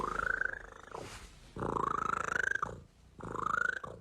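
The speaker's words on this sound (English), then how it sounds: "What an interesting purr." A creature in the video game Warframe purrs in three long, loud rumbling bursts, each with a rising tonal growl, separated by short breathy pauses.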